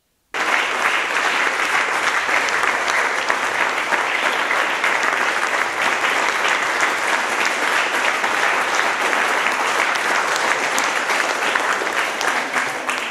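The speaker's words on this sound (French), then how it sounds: "J'invite tous les adultes ici présents maintenant d'applaudir les enfants" Adults at a children's rights day celebration applaud the children, a dense, steady clapping from a crowd that starts abruptly and holds at full strength throughout, loud and close.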